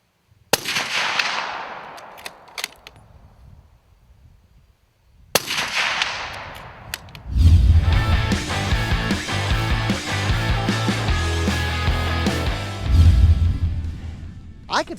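A suppressed 300 Win Mag rifle fitted with an AAC Ranger 7 silencer fires two sharp cracks a few seconds apart, each trailing off in a short echoing decay, before music takes over.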